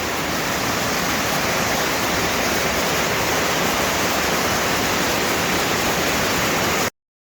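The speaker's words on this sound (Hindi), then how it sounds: "चट्टानों से टकराता हुआ चलता जा रहा है ये झरना।" A waterfall pours and crashes over rocks in a steady, dense roar that stays loud and unbroken throughout, with no voices, then cuts off abruptly at the end.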